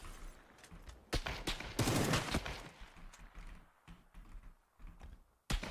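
MK12 rifles fire in a PUBG firefight, with a dense burst of loud shots near the middle and scattered single cracks before and after.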